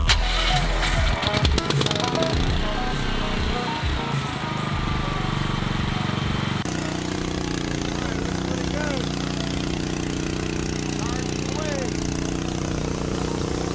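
A loud engine used to charge a Tesla car on the road is started: a rough cranking burst, then a steady, droning run at close range.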